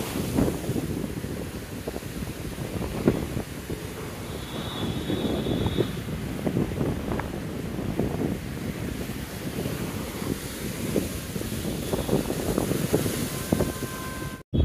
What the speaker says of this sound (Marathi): लय मस्त हवा सुटली आहे.